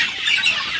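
Darag native chickens on a farm cluck briefly, a short burst of hen-like calls heard fairly close with no talking.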